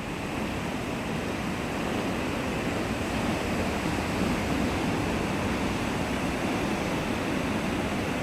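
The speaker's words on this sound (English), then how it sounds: "The waves were monsters, whitecaps frothing and churning." Large waves surge and break at a boat ramp, a steady, loud wash of churning surf and wind noise that runs unbroken throughout.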